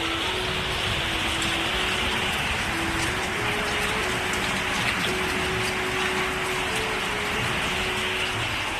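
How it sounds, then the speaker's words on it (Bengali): Heavy rain pours down in a steady, dense roar that fills the whole stretch without letup, with a faint low hum running underneath. "প্রচুর পরিমাণে বৃষ্টি হচ্ছে এখন, প্রচুর। আওয়াজটা হয়তো পাচ্ছই।"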